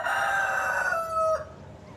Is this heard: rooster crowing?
yes